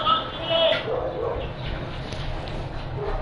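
Dogs bark and yip nearby, a few sharp bursts over a steady outdoor background during a cricket broadcast.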